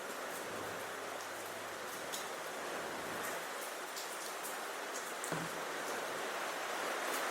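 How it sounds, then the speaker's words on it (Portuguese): Rain falls steadily outdoors as a dense, even hiss with scattered soft drips and patters, continuous and fairly loud for the whole stretch, with no voices. "Tá chovendo, mas não tem problema."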